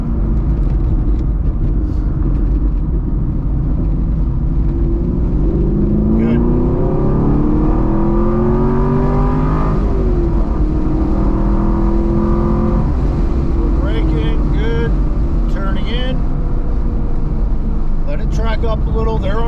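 A BMR-equipped sixth-generation Chevrolet Camaro engine on road course laps, loud and close, with steady drone rising and falling in pitch through acceleration and gear changes, voices talking over it.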